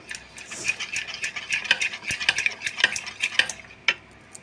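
A spoon stirs and mixes a sauce of red chilli sauce and water in a bowl, with irregular close clinks and scrapes and a sharper knock near the end, no voices.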